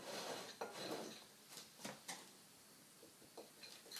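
Flour seasoned with smoked Spanish paprika being stirred in a bowl, a few quiet scrapes and clinks of a utensil against the dish, intermittent and faint.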